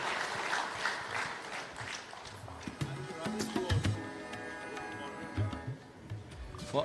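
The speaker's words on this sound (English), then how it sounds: "a round of applause to the excellent panel" A crowd claps in a scattered round of applause, moderately loud, with some voices murmuring underneath.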